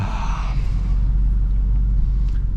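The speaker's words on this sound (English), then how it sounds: "Those downshifts sound so good." A Dodge Charger Hellcat engine rumbles low and steady inside the cabin while driving in the rain, with a brief rise in revs at the start from a downshift before easing off.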